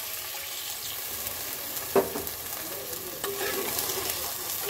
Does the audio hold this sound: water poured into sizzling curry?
yes